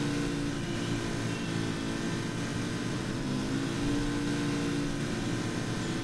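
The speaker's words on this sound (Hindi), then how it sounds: "ये बाइक लगाई, अभी चलते हैं बाइक के ऊपर सवार होकर" Motorbike engine in the video game Life After, droning steadily and loudly throughout the ride with a constant hum and no noticeable changes in pitch or gaps.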